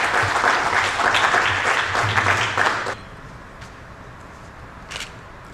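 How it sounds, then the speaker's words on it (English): An audience applauds to welcome Professor Yogesh Singh at an inaugural function, a loud burst of many hands clapping that cuts off sharply after about three seconds, leaving quiet room tone with a couple of faint knocks. "let's all greet Professor Yogesh Singh with a huge round of applause"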